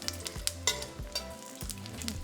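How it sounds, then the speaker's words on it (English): Dried New Mexico or guajillo chile pods sizzle as they fry in a pan, a steady crackling hiss broken by a few sharp clinks and pops of the pods being turned, close and clear with no talking. "fry 4 New Mexico or guajillo chile pods"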